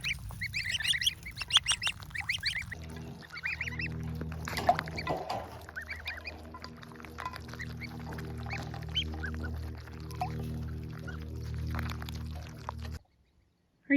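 Geese on a homestead in an Alaskan summer, with goslings out for their first day, give soft honks and chatter close by over a steady low rumble that runs throughout.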